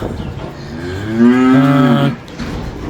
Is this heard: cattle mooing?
yes